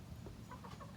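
A young Wyandotte rooster, about 20 weeks old, gives a short, faint cluck among a backyard flock of chickens.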